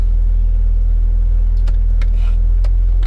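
A 1996 Jeep XJ engine runs with a loud, steady low rumble throughout, with a few faint clicks and knocks on top.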